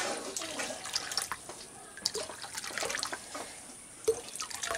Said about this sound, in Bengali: প্রথমেই নর্মাল জল দিয়ে দিচ্ছি